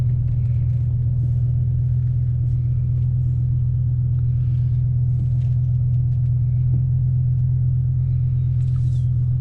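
A BMW E60 M5 with the S85 V10 on a test drive, suffering a cylinder 4 misfire and low power: a steady, loud, low cabin drone held at an even pitch, with faint clicks and rattles above it.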